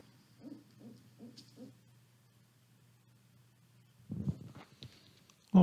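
A human voice imitates a barred owl's caterwauling call: four soft, evenly spaced hoots, then a louder, rougher burst of calls after a pause, with faint static behind.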